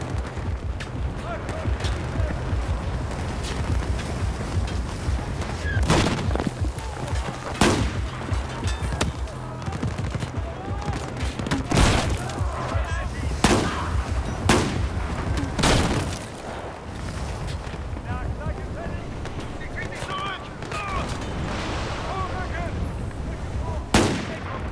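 Sustained gunfire in the Battlefield 4 campaign, with repeated sharp shots and bursts cutting through a constant rumble of combat, some close and loud, others further off, while a voice speaks briefly between them.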